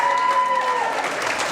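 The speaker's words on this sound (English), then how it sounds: "Give yourselves a round of applause." An audience at a live comedy show claps together in a short, dense burst of applause.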